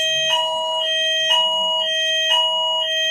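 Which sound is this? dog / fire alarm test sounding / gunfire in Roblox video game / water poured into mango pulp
fire alarm test sounding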